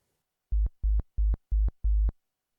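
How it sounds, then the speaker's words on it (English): Waldorf Blofeld synthesizer with oscillator 1 set to a very low sine wave: five short, deep, evenly spaced pulses, each closing with a brighter click, played alone with silence before and after. "let's assign a sine wave to oscillator 1 with a very low frequency"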